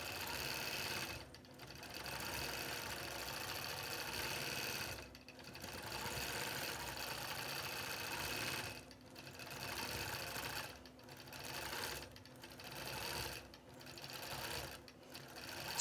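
A quilting machine stitches a pattern across black and white fabric with a steady, fairly faint mechanical whirring, broken by several brief pauses.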